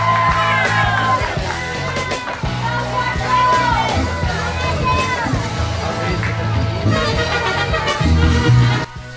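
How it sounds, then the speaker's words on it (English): Crowd at a taco eating contest in San Angelo, Texas, cheering, whooping and yelling in a lively, continuous babble of voices with bursts of shouts. "Let's give them a big cheer,"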